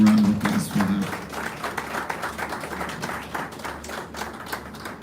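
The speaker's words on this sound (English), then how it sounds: "Please a round of applause for her." An audience at a university campus launch event applauds the First Lady of Lagos State, with scattered, uneven clapping that tapers off. A voice speaks briefly at the start.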